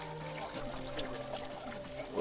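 Water trickling and pouring softly in an aquarium setup, a faint continuous splashing with a few louder drips near the end.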